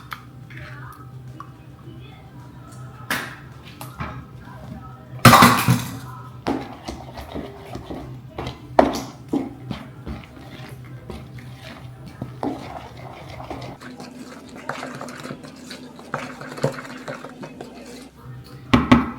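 Last egg cracked into cornbread batter and mixed, with a sharp crack and clatter early on followed by repeated clinks and wet stirring strokes in a bowl, while a voice talks intermittently nearby.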